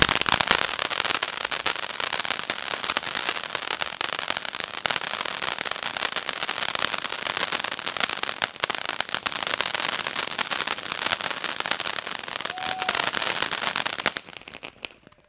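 Dense, continuous crackling of firecrackers bursting rapidly, a steady barrage of small pops at close range with no talking.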